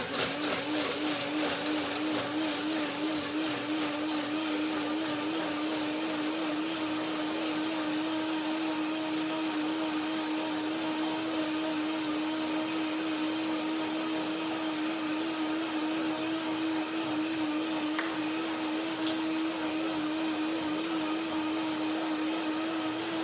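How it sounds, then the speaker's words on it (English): A blender blends cashew cream salad dressing, running continuously at a steady whirring pitch for the whole stretch, loud and close, with no breaks or talking. "blend it up with a blender"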